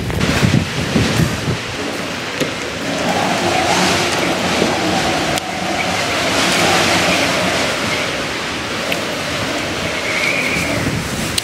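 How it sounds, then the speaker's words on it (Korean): Wind and rain lash a mountain ridge trail near Byeoksoryeong on a long ridge traverse. The roar is loud, dense and continuous, with gusts swelling and easing, and no voices are heard. "지금은 비바람이 불고 있습니다."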